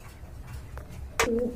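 Pigeons at a bird sale give a short, throaty coo near the end, with a low murmur of background noise before it.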